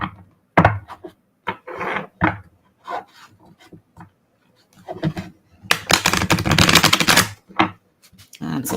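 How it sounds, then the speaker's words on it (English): A deck of tarot cards being cut and shuffled by hand, with bursts of soft papery riffling and tapping, ending in one long dense riffle, close by and broken up by pauses and speech. "I'll show you what it looks like shuffling these,"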